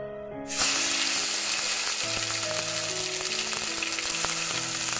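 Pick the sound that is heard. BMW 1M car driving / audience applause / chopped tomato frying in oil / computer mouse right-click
chopped tomato frying in oil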